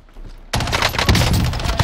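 FFAR rifle gunfire in Call of Duty Warzone on Rebirth Island erupts after a brief quiet moment as a loud, rapid, sustained automatic burst of close shots.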